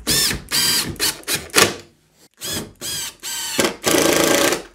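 A power driver drives a screw at an awkward angle into a wall plug for a cabinet spacer, whirring loud and close in several start-stop bursts of varying length, with a brief pause midway and no talking.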